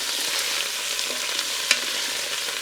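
Sausage with peppers and vegetables browning in oil in a pressure cooker pot, a bright continuous hissing sizzle with one brief clack of a utensil, close and with no voices.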